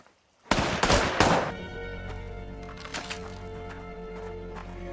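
A film gunshot from a grandfather's gun: a sudden loud blast followed by two more sharp cracks close together, then a sustained ringing musical tone with low rumble lingering underneath.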